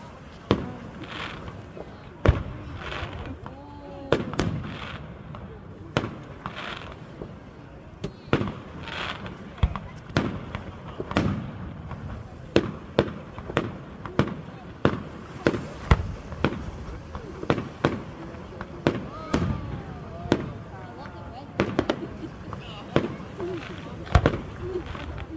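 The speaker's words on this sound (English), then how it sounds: "These are the Maine 4th of July fireworks." Fourth of July fireworks over Ogunquit, Maine, go off in a long series of sharp bangs and crackles, some clustered close together and others spaced apart, heard from a distance with people talking now and then.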